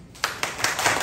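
A person clapping hands, a few quick close claps in a row, crisp and fairly loud.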